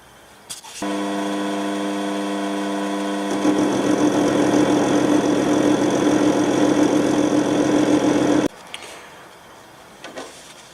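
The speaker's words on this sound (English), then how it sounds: "I'm gonna round this nut on the lathe." A lathe rounding off a nut for a Brixton BX125 motorcycle mod: a motor spins up to a steady hum, then a harsher rough grinding cut joins in for several seconds before it stops abruptly, close and loud.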